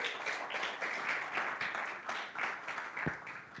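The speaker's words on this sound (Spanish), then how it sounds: "Un aplauso también." An audience at a tire industry presentation gives a round of steady applause, a dense continuous patter of many hands clapping, moderately distant and fairly quiet, with no talking.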